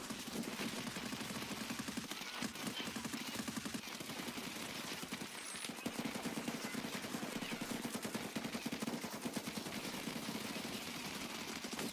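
Rapid, sustained automatic gunfire in the shooter game Escape from Tarkov, a dense unbroken stream of shots lasting the whole stretch at moderate level, no talk over it.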